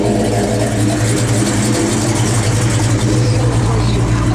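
A 1970 Chevrolet Chevelle SS engine idles in a steady, loud, deep rumble that holds evenly throughout, with no pauses or revs.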